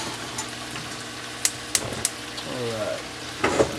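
A steak marinade simmers and sizzles steadily in a saucepan on a stove, with a few utensil clicks and a voice speaking briefly.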